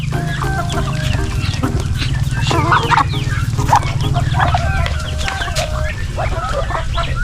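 Native crossbreed Black Australorp chickens on a farm, clucking and calling repeatedly from close by over a constant rumble of background noise.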